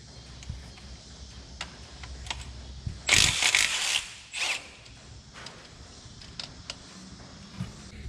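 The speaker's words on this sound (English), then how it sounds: "on the passenger side of the vehicle, we're going to remove our belt tensioner." Tool work on a Dodge Ram engine, freeing the 15 mm belt tensioner from the passenger side, heard as a close burst of ratcheting and power-tool whir lasting about a second amid light clicks and handling noise.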